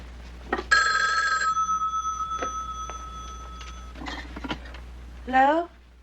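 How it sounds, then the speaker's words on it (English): A telephone in an early-1970s film scene rings loudly in a long trilling burst, then a shorter one. A brief voice comes in near the end. "Doremus, pick up the phone"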